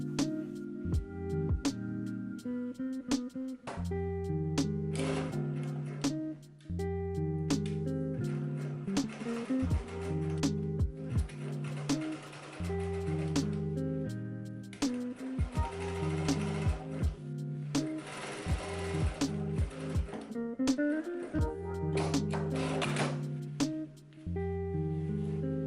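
Sewing machine stitching a skirt's back pieces to the front piece, 1 cm from the edge, with rapid mechanical needle chatter in repeated runs and brief stops between, close and steady.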